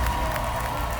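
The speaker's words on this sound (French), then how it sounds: "Applaudissez-les encore une fois." A studio audience at a televised singing-battle show claps and cheers steadily for the singers, a dense, continuous wash of crowd applause throughout with no talking.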